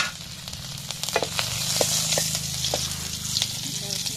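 Fish with a little onion frying in a small amount of oil, a steady close sizzle running throughout with a few sharp crackles and stirring sounds.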